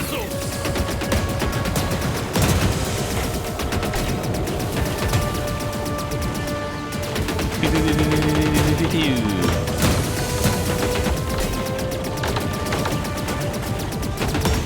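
Blasters fire in the video game Sky Dog 64 in rapid, dense bursts of shots over game music and explosions. The barrage is loud and nearly continuous throughout, with a voice talking over it.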